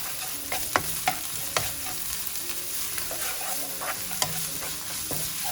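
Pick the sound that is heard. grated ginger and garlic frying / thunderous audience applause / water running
grated ginger and garlic frying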